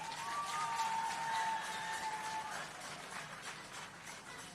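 Distant applause from a crowd at a groundbreaking ceremony in Jamaica, a soft, continuous patter of many hands clapping, fading slightly toward the end, with a faint tone in the background.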